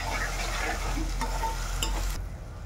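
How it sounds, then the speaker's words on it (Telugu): Ginger-garlic paste frying in a pan, a steady close sizzle with faint stirring scrapes, dropping quieter near the end. "అల్లం చిన్నులపాయ పేస్ట్ వేగిందండి."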